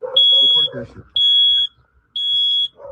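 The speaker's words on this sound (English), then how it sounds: "from a carbon monoxide alarm that kept going off" A carbon monoxide alarm going off in a house, sounding three loud, steady high-pitched beeps with short gaps between them, with a voice talking under the first beep.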